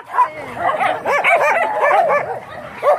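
A dog at an animal shelter yips and barks in a rapid, excited string of high, close calls, mixed with whiny squeals, with no talking over it.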